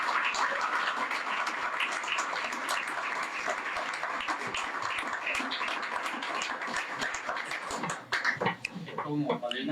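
A church congregation claps in praise during a sermon, dense sustained applause filling the space, with voices over the clapping and a brief dip near the end.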